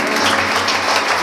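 Church congregation applauding the Lord together, a steady dense wash of clapping that fills the space without a break, with faint voices mixed in.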